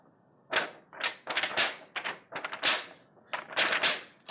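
A sheet of paper handled as an improvised instrument, giving a run of loud, close crinkling and rustling bursts in an irregular rhythm, with brief pauses between clusters and no talking.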